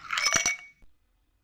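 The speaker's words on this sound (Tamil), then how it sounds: "ஐஸ் க்யூப் கொஞ்சம் சேர்த்துக்கலாம்" A short cluster of bright clinks as a few ice cubes drop into a lemon squash drink, quickly fading to silence.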